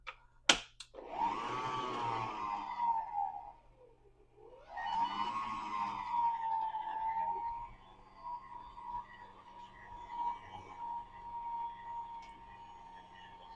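Electric mixer whirring through pound cake batter in a home kitchen, a steady mid-pitched motor hum that briefly dips and restarts, then holds a continuous drone close to the microphone.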